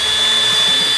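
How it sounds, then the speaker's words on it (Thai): A Keyang DM18BL-W cordless drill driver bores through a gypsum ceiling panel, a loud steady high-pitched whine running unbroken for about a second, close up. "ไม่หยุดครับนะเจาะทะลุฝ้าไปเลยนะครับ"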